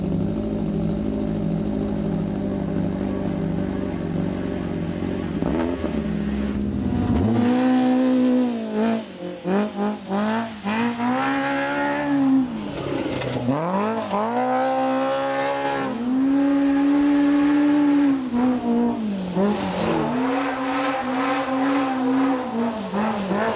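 A four-cylinder off-road vehicle engine with an MBRP exhaust revs and accelerates loudly on a trail, a low idle rising into repeated throttle bursts and falling between them, close and continuous.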